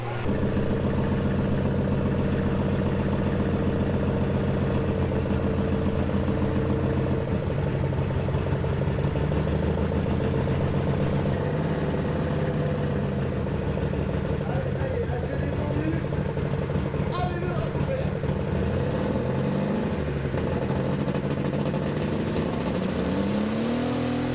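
A stock tractor's engine roars continuously through a tractor pulling run on a track, loud and sustained with shifting revs and a steady mechanical drone.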